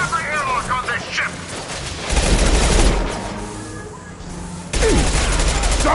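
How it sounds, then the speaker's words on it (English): Sustained bursts of futuristic gunfire in the Mass Effect 2 video game, loud and dense with booming rolls, mixed with voices speaking over the firing throughout. "Stop firing at me"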